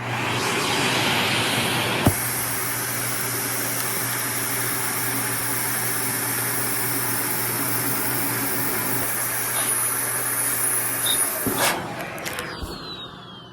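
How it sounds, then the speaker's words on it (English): A loud, steady vacuum motor roars for about ten seconds while air is sucked from a storage bag, then cuts off and the noise fades, leaving a short quiet tail. "I sealed it like the big Ziploc bag it is, and now I'm going to vacuum it down."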